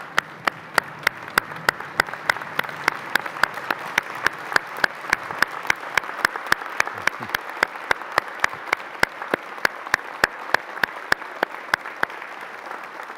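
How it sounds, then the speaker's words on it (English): Applause for the chancellor at a university convocation ceremony: a steady audience clapping that continues for over ten seconds, with some individual claps standing out close by. "I'd like you to stand and give a round of applause to our Chancellor."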